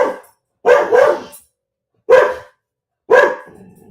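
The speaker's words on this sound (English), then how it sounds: "I knew he was going to bark because there was an Amazon truck going down the street." A dog barks at a passing Amazon delivery truck: three loud, close barks, the first a quick double, spaced apart by silence, with a brief trailing whine after the last.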